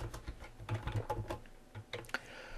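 Rapid, quiet clicking of keys on a computer keyboard as a file name is typed, close-up soft taps in quick irregular bursts with a few sharper strokes near the end.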